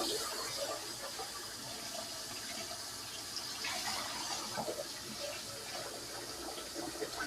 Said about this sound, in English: I want to go ahead and do my washing of the brown rice